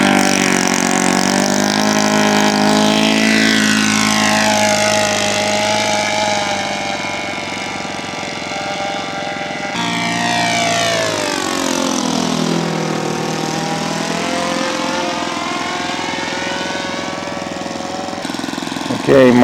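Twin Mach-E 7 scale model aircraft engines drone loudly and steadily while the plane taxis out at a scale aircraft show, with a buzzing pitch that sweeps down and then back up again.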